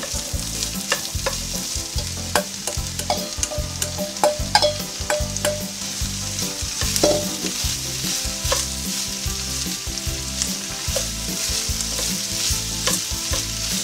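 Red peppers and onions stewing in a pan, a loud continuous sizzle with frequent crackles and scraping stirs, close and steady, with no speech.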